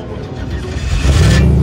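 A Dodge Charger styled as Dominic Toretto's movie car, with a tubular chassis, shown at a Grand Prix de France 2021 event. A low engine rumble runs throughout and swells louder toward the end, mixed with background crowd noise.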